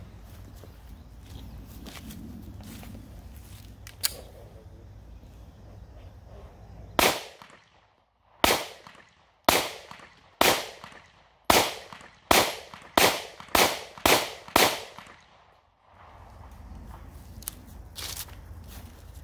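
A Taurus GX4 9mm pistol fires about ten sharp, loud shots at an outdoor range in a steady, evenly spaced string, with quiet ambient noise before and after.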